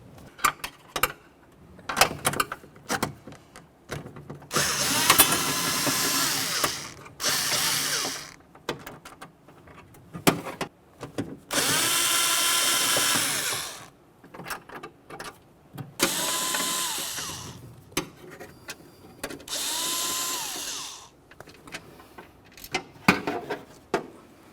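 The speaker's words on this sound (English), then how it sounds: "cut them, drill them, whatever you have to do" A power drill bores out rivets on a 2001-2005 Ford Explorer Sport Trac door during a window motor replacement, loud whining bursts of several seconds each, stopping and restarting, with small clicks and handling noises between.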